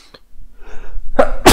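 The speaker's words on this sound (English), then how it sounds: "Sorry guys, I sneezed." A single sneeze bursts out loud and close near the end, preceded by a few faint breathy intakes and a quiet rustle.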